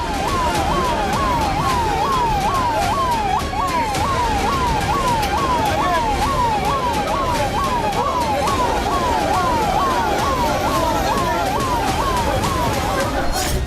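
Ambulance sirens wail at a Gaza hospital during wartime, a loud rapid up-and-down yelp repeating steadily throughout, heard over crowd babble and traffic noise.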